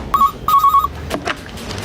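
A telephone rings with two short electronic trills, a brief one then a longer warbling one, followed by clatter and faint background noise.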